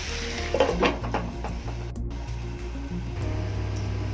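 Fish and potatoes fry in a pan with a low steady sizzle, while a utensil stirs and scrapes the mix a few times near the start.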